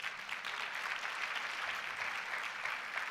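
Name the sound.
church congregation applause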